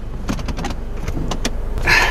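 The electronic push-button parking brake of a Toyota Harrier is pressed inside the cabin. A few soft clicks and taps are followed by a short electric motor whirr at the end.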